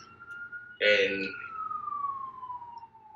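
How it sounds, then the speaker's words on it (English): Emergency sirens wailing outside in Atlanta, a single rising-then-gliding siren tone sounding clearly through the room while someone briefly talks over it. "You hear them sirens, man?"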